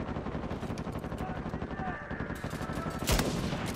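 Gunfire in Uncharted 4 multiplayer, rapid repeated shots rattling throughout, then a single louder sniper crack near the end, set against a busy game soundscape.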